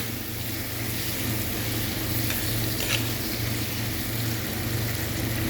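Onion thokku sizzles steadily in a pan as it is stirred, a dense, continuous frying hiss with a low background hum. The sound is close and unbroken, and no one speaks.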